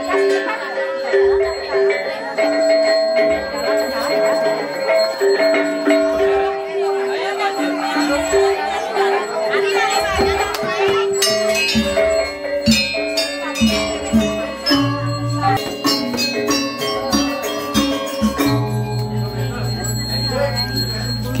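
Metallic gong and bell strikes ring out at a Balinese Dadia Pasek Gelgel temple ceremony in Sangsit, repeated sustained tones layered with a busy crowd and talking.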